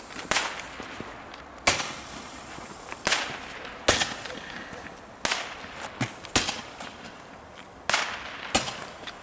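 A string of sharp firework bangs from a Roman candle, about a dozen irregularly spaced cracks popping in open air with echoing tails.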